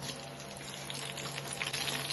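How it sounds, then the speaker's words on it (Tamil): Dried red chillies sizzle in hot sesame oil for a mutton pickle, a steady low frying crackle with fine pops running throughout, close and moderately quiet with no talk. "இந்த டைம்ல வந்து நம்ம மிளகா வத்த போட்டுக்கலாம்"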